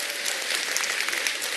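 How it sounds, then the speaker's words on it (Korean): An audience claps hard in a brief burst of bright, dense applause that stays even from start to finish. "네, 박수 좀 세게 치세요."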